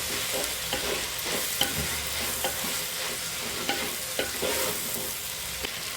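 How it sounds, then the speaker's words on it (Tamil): Wheat carrot noodles stirred in a pan with tomato sauce and soy sauce, a steady frying sizzle under repeated soft scrapes and clinks of a spoon against the pan, close and continuous with no talking. "நல்லா ஒரு பரட்டி விட்டுருவோம்."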